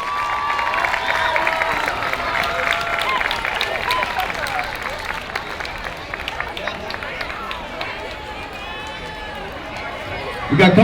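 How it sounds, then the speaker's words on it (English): A parade crowd at the 2017 Baldwin Park Anniversary Parade claps steadily for the seniors' float, a dense, continuous wash of applause and crowd noise, with voices mixed in throughout. "Let's give a big round of applause to the seniors who worked really hard on their float."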